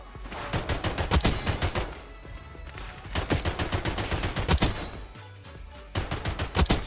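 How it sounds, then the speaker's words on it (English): Sustained automatic gunfire from a weapon being mag dumped in the video game Black Ops 6: rapid loud bursts of shots repeating in dense volleys, with brief pauses between strings of fire. "I love mag dumping with this thing."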